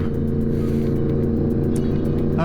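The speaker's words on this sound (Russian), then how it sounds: "Так, сейчас мы объедем эту машинку." A car drives steadily around another parked car, its engine giving a constant low rumble that stays close and even throughout, with no voices.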